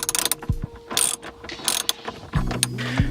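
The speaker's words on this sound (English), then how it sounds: "So there's a bit of grease on it, so just gonna try and take it off with the socket." A socket wrench ratchets a greasy rear seat bolt out of a 2003 Honda Civic Si EP3, giving quick clicking pawl bursts close up, separated by short pauses and ending in a heavier metallic clunk.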